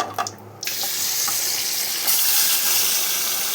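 A broadband hiss of soaked spice paste frying in hot oil, starting abruptly and holding steady and fairly loud, with no voices.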